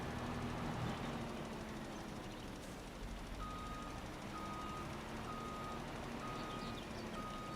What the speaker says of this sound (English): I hate the beeping.